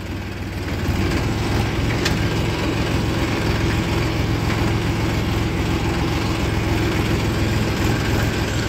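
A Farmtrac 45 tractor hauling sugarcane runs with a loud, steady low engine drone that holds evenly throughout after a brief quieter start.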